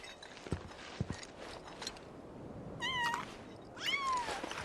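A cat in the Final Fantasy VII Rebirth video game meows twice, with two short, rising-and-falling calls a second apart over soft background game sounds and light clatter.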